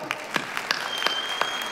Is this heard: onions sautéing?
no